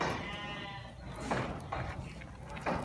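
A goat bleats several times close by, wavering cries rising over a steady, noisy farmyard background.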